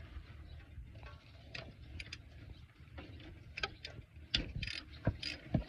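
A ratchet wrench with a socket turns counterclockwise to crank a nut loose, giving a steady run of close mechanical clicks and ratcheting bursts with occasional louder knocks.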